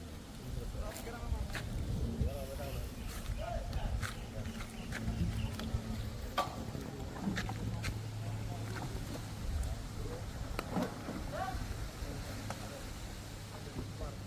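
Many flies buzz in a dense, steady drone close by over a garbage heap stored in godowns, with voices murmuring faintly underneath.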